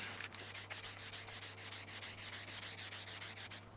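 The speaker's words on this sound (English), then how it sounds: "I sprayed on a little water and sanded at 400 grit to denib the finish and get it nice and smooth" Wet sanding a wood finish by hand at 400 grit on a mid-century style step stool, a steady rhythmic rubbing hiss in quick back-and-forth strokes, close and continuous with a low hum underneath.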